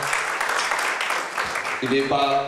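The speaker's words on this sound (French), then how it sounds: "Je crois que vous pouvez applaudir Jean-Pierre qui le mérite." Audience applause for a man at a cultural community event, a broad patter of clapping that fades and gives way to a voice speaking near the end.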